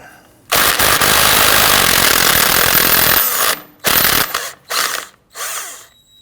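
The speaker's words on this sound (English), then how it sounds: "we're going to use a 13mm socket, loosen and remove the axle nut." An impact or power tool with a 13mm socket loosens the front axle nut on a 2009-2017 Volvo XC60, running loud for about three seconds, then firing in three shorter, sharp bursts separated by brief silences.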